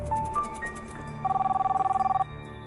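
A phone rings indoors amid family life, with a few short electronic beeps followed by a steady, rapidly pulsing ring lasting about a second, clear and fairly loud with no talking.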